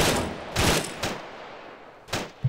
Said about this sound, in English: Someone's shooting me? Yeah, from the south someone's tower.